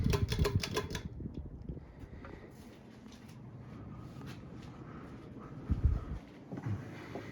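Hampton Bay Cameron II 52-inch polished brass and rosewood ceiling fan running at high speed, a faint steady whir beneath a few sharp clicks and knocks at the start and again near the end.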